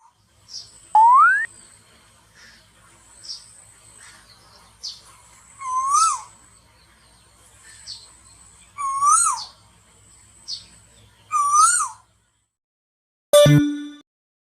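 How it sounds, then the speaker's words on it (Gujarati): An Asian koel (cuckoo) sings a series of clear, rising whistled calls, repeated roughly every one and a half seconds over a quiet background, with faint softer calls between them and a sharp click at the end. "આ છે કોયલ જેને અંગ્રેજીમાં કુકુ કહે છે બાળકો હવે આપણે કોયલનો અવાજ સાંભળીએ"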